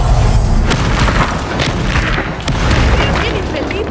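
The Confringo explosion spell in a Hogwarts video game duel, heard as loud booming blasts, several heavy thuds and bursts in quick succession over a dense rumbling background.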